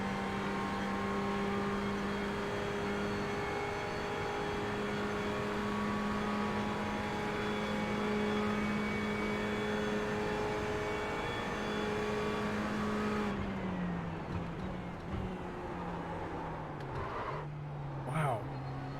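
Ferrari 488 GT race car in iRacing, its engine droning steadily at high revs with a sustained, loud tone that shifts pitch down near the end as the car slows, with a faint voice beneath.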